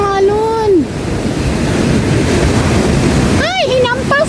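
Strong surf breaks and rushes continuously at a world-class surfing beach in Baler, Aurora, loud and close with wind buffeting the microphone, while voices talk briefly at the start and again near the end.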